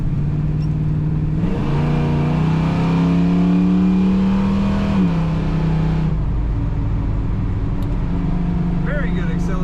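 A 1972 Chevrolet Camaro SS with cowl induction hood and automatic transmission idles, then revs up into a loud, rising acceleration for several seconds before dropping back to idle, nearby and alone.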